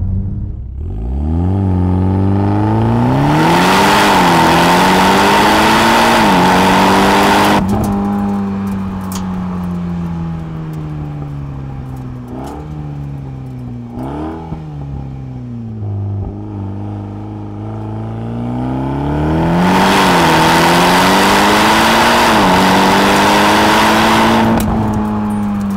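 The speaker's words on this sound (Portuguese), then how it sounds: "aqui dá para ouvir perfeitamente o ronco do escape" Mitsubishi Lancer Evolution X exhaust roaring close by with no talk, rising in two strong revving surges at the start and end around a steadier, quieter stretch of engine drone with a few blips; a mellower roar than older Evos.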